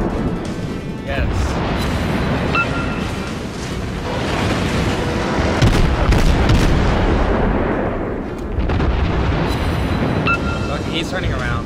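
Naval guns firing in the World of Warships video game, heavy booming salvos and rumbling blasts filling the mix continuously, with a player talking over them.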